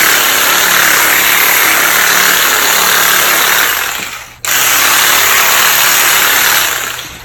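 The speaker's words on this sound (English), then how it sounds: "we further stimulate it by using something like the Tim Tam massage gun" A Tim Tam percussive massage gun works against a quadricep muscle, giving a loud, steady buzzing drone that cuts out abruptly for a moment and then resumes before trailing off.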